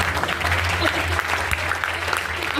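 An audience claps at an award announcement event, a dense, continuous burst of applause throughout, with faint voices underneath.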